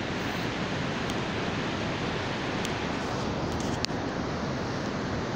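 Fast-flowing river water in a cold town setting, a broad steady rushing roar that fills the whole clip, constant and close, with a single faint click near the end.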